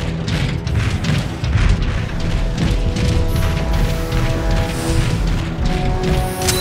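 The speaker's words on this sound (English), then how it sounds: "The Ark is getting shelled pretty bad by those warp cannons." Warp cannons shell the Ark in Transformers: Fall of Cybertron, a dense, continuous barrage of deep booms and rumbling impacts that rolls on without a break and stays loud and close throughout.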